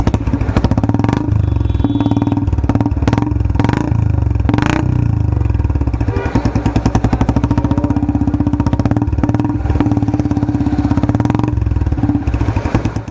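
A Royal Enfield Classic 350 BS6 fitted with a Long Bottle Punjab exhaust idles close by, a loud, rapid, even thump of firing pulses with a few sharper revs early on before settling into a steady beat.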